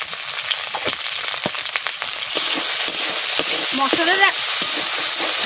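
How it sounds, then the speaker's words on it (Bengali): Kashmiri chili, turmeric and salt frying in a pan give a bright, continuous sizzle with scraping stirring taps, growing louder midway; a faint voice is heard under it near the end. "মশলাটা একটু ভাজা ভাজা হবে, তারপরে ওই মশলাগুলো দেবা, নাহলে নিচে লেগে যাবে।"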